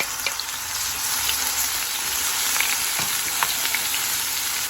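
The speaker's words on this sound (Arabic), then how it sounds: "راني دايره الزيت يحمى، دايره قد 3 مغارف هكا تاع زيت، ندير نص بصله غير صغيره راني مرطيتها" Grated onion sizzles in about three ladles of hot oil, a steady close crackling fry with scattered pops throughout, no voices.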